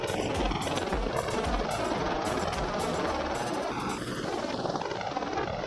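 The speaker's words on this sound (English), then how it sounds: "the pilot took the helicopter to a nearby pool and filled their bucket up" A firefighting helicopter hovers low over a pool while filling its water bucket, its rotor a loud, steady, chopping roar that fills the whole stretch without pause.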